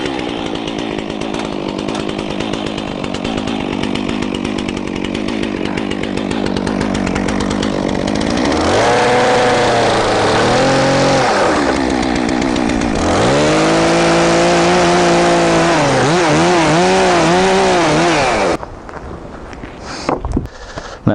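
A chainsaw cuts off the edge of a wooden roof in a workshop, revving loud and close in rising and falling bursts for about eighteen seconds before cutting out, leaving faint handling noise.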